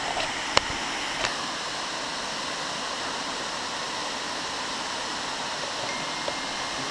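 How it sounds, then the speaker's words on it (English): Steady, full-bodied roar of a 50-to-60-foot waterfall at Lick Brook Gorge, constant and close, with a couple of sharp clicks near the start. "It's like a 50-foot waterfall"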